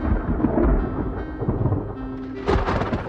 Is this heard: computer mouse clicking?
no